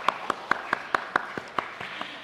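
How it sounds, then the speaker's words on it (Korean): A congregation claps during a Sunday church service: a string of about a dozen evenly spaced, crisp claps, fairly faint and slightly reverberant, with no one talking. "서로를 위해서 박수 한번 쳐주세요."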